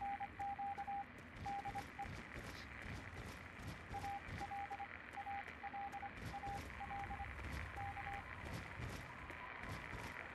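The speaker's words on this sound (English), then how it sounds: "Morse code?" A radio in a wasteland video game beeps Morse code, a steady pitched tone pulsing in short dots and dashes over a constant hiss of static, clear and fairly loud throughout.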